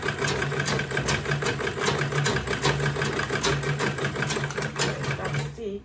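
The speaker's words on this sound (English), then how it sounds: "I'm sewing on that line that I marked." A sewing machine runs steadily while stitching along a marked line on a quilted tote bag, a continuous close mechanical whir that stops near the end.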